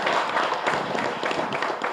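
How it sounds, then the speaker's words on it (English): Audience applause at a hospitality quiz event, a dense burst of many hands clapping together, fairly loud and sustained throughout. "Give a big round of applause."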